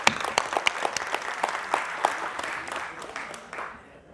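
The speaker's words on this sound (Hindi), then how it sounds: "आप सबके लिए जोरदार तालियां।" Loud, dense applause from an audience at a political gathering in Asansol fills a few seconds with sharp overlapping claps before tapering off toward the end.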